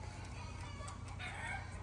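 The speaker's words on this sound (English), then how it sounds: "There's just a symphony of chickens in the background." Chickens cluck faintly in the background, a soft overlapping chorus of fowl sounds that stays low and continuous.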